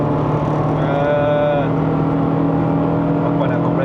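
A Honda Integra DB8 GSR engine hums steadily in the cabin, with a short rising whine as it revs toward VTEC before it settles back to a steady tone.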